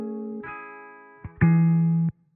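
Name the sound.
guitar through low pass filter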